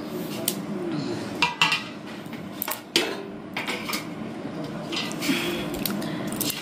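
Metal plates and bowls clatter and clink in a home kitchen, a steady run of scraping and knocking with several sharper clanks, close by, with faint background talk.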